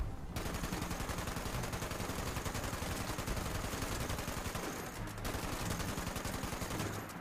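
Dense, sustained rapid-fire turret gunfire against enemies in a military roleplay video game, loud and continuous for several seconds with a brief dip partway through.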